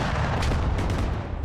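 Vehicles explode amid heavy gunfire in a video game battle where British defenders hold a castle against Russian invaders. The sound is a dense, continuous roar of blasts and shots, loud and close throughout.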